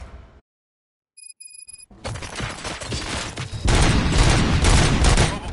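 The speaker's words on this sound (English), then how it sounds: "Gunshots?" Heavy gunfire in the video game Robocop: Rogue City: a near-silent pause with a few high electronic tones gives way to a loud, sustained fusillade of rapid shots and booms that grows even denser toward the end.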